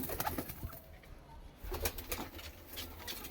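A white Ludhiana Punjabi pigeon with a black beak and black feet coos softly and intermittently, close by, among bursts of rustling and handling noise.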